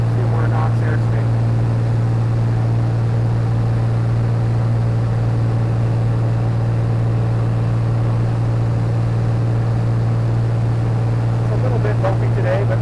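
Inside a Navion light aircraft in flight, a loud, steady low engine drone with a strong constant tone fills the cabin throughout.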